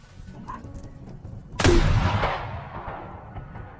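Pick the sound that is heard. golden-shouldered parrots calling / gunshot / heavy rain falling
gunshot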